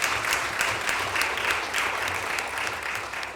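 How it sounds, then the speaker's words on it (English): Applause from a city council meeting audience, honoring a high school basketball team's state sectional championship; steady, dense clapping throughout, moderately distant and even in level. "All right, you can applaud."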